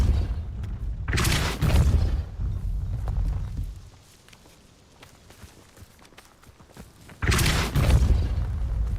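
Two Depulso spell casts in Hogwarts Legacy on PS5, each a loud, forceful whooshing burst lasting about a second, with quieter shuffling game sounds between them.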